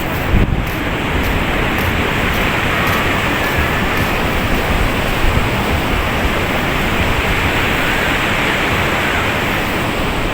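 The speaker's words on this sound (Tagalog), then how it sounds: "malakas na naman ang alon dito sa tabing dagat" Loud, continuous roar of strong surf breaking on the shore at Binmaley, Pangasinan, dense and unbroken, with wind buffeting the microphone and no voices.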